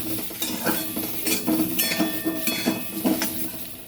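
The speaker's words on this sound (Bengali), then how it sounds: "বেশিক্ষণ না, সামান্য কিছুক্ষণ একটু নাড়লাম" A spoon stirring Bengali amra dal, with turmeric, in a pan, giving soft scraping strokes and light clinks against the metal over a faint sizzle, steady and close.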